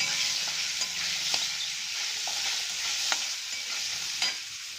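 Fresh green peas sauté in hot oil over a low flame, a steady close sizzle with occasional soft stirring taps and scrapes, no voices.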